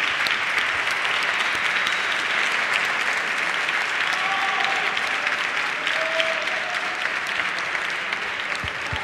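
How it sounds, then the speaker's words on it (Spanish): A large audience at a cybersecurity competition award ceremony applauds loudly and continuously, dense clapping filling a hall with a faint hum beneath. "Un fuerte aplauso."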